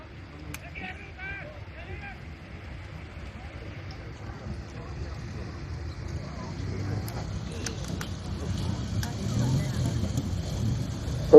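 An American tracked military vehicle approaches at a WW2 re-enactment, its low engine rumble swelling steadily from faint to fairly loud, with voices talking over it.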